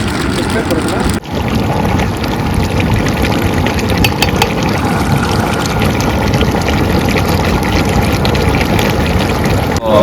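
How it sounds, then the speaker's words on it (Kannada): Water poured into a pot of pork curry cooking outdoors, heard as a steady rushing wash over wind noise for the full length of the clip. "ನೀರು ಹಾಕ್ಕೊತಾ ಇದ್ದೀವಿ."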